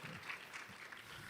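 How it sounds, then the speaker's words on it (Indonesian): Faint applause from a gala dinner crowd, a brief patter of clapping heard from a distance. "Tepuk tangan dong untuk Pak Lo Keng Hong."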